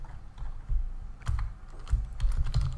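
Typing on a computer keyboard while writing code, a close, quiet run of irregular key clicks and thumps with brief pauses, no talking.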